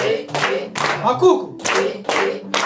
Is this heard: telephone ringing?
no